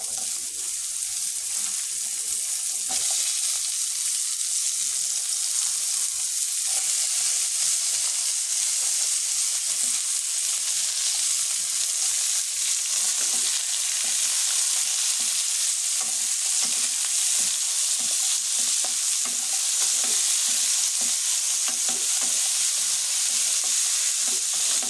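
Washed vegetables frying in a pan with onions already browned red: a steady, loud, hissing sizzle that runs unbroken throughout, with no voices.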